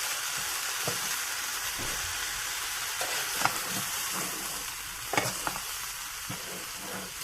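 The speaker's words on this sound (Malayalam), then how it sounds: "അതിന് ശേഷം ഞാനൊന്നും കൂടി ഇത് വഴറ്റുകയാണ് കേട്ടോ" Vegetables sautéing with sambar powder for colocasia sambar, a constant close frying sizzle broken by scattered spoon scrapes and taps against the pan at uneven intervals, no talking.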